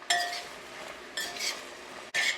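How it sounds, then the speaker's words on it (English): A metal lid clinks onto a cooking pot of green beans with shrimp on the stove, three bright clattering impacts spread over a couple of seconds, close and fairly loud with no talking. "I'm going to put the lid on here and allow that to cook until it gets tender"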